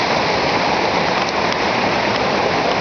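Violent mountain torrent rushing between sheer rock walls, a loud, steady broadband roar of churning water filling the whole clip without pause.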